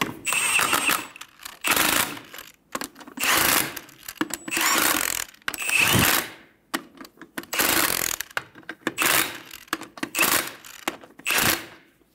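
Repeated bursts of a ratchet wrench snugging down the lug nuts on a 2000-2007 Ford Focus front wheel, each run of rapid clicks lasting a second or so with short pauses between, fairly close and loud with no talk.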